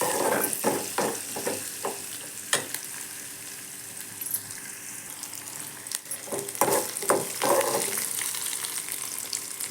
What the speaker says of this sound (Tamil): வெங்காயத்தை வணக்கி எடுத்துக்கலாம்.